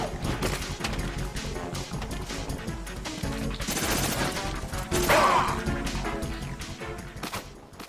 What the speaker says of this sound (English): For his last kill, I'm gonna shoot him with the M4.